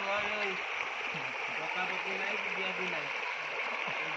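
Fast, full stream water rushes steadily past where people fish with a net, a constant broad roar with someone talking over it.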